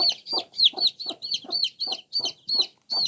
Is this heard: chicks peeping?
yes